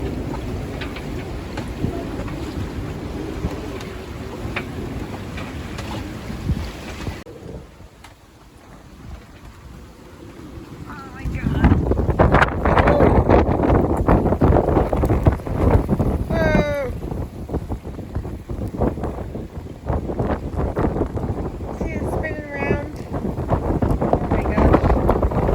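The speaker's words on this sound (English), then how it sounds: "I don't know if you can see or hear how much it's windy." Strong wind buffets a sailboat, a steady roar with gusts and microphone rumble that drops briefly partway through, then surges loud again, with brief chirping or squealing sounds over it.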